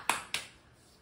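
Two quick, sharp claps at close range, a beat apart, in a quiet home room with a young child, each snapping off fast into near silence.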